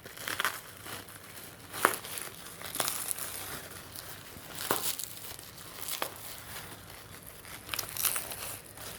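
Crinkling and rustling of packaging as a well-wrapped package is unwrapped, with irregular crackles and a few sharper tears, steady and close throughout.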